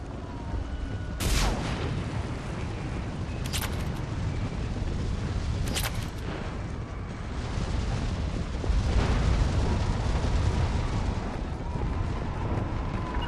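Fire-support explosions in Mass Effect 3 boom repeatedly over a dense rumbling battle bed, several sharp blasts spaced a couple of seconds apart, followed by a heavier sustained roar.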